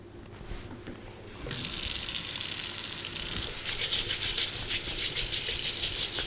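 A potato is scrubbed with a sponge under a running kitchen tap: a quieter rattle first, then water bursts on and gushes steadily with scrubbing rustles mixed in, close and fairly loud.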